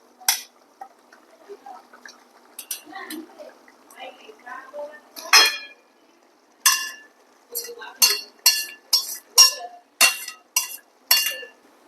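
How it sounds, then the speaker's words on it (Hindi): Cooked Maggi noodles and masala being stirred together in a pan, with a run of sharp, close metallic clinks and scrapes of a utensil against the pan, growing into a steady rhythmic series after scattered quieter knocks. "अभी सिंपली इन दोनों को मिक्स करना है"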